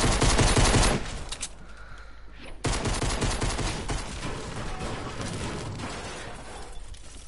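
Gunshots in a jungle-themed video game: a dense stream of rapid, loud automatic fire, a short drop to quieter echoing shots, then sustained volleys continuing to the end, with no speech.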